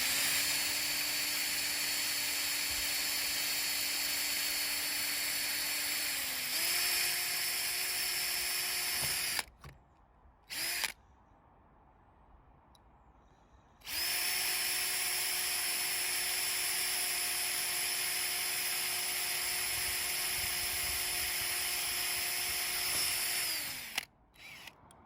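A power drill bores a hole in a Land Rover Freelander 2, with a piece of wood underneath, while a 42-inch LED lightbar is being fitted. The whine is loud and steady, cuts out briefly in the middle, then resumes at the same pitch.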